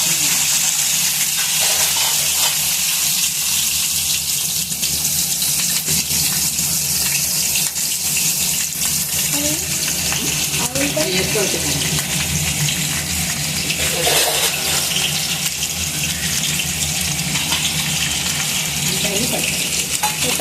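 Onions and green chillies sizzle and fry in a hot pan for prawn fry, a steady dense hiss running throughout at even loudness with faint stirring and no talk over it.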